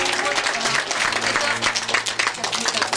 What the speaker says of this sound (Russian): Похлопаем ей.